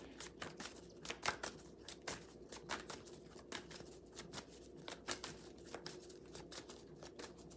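Tarot cards are shuffled and riffled in quick, crisp bursts, the slaps and flicks of the deck close and clear against a quiet room.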